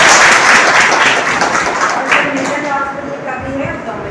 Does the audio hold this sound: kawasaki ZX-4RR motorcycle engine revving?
no